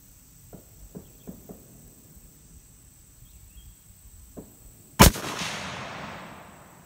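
A single sharp, loud shot from a Savage 110 tactical rifle chambered in 6.5 Creedmoor, with a long fading echo outdoors; insects chirp faintly in the quiet stretch before it.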